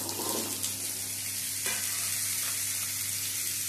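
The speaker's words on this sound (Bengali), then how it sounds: "আলু কুমড়োটাও একটু এর মধ্যে ভেজে নেব" Potatoes and pumpkin fry in hot oil tempered with black cumin and dried chili, a steady loud sizzle with occasional stirring scrapes, no voices.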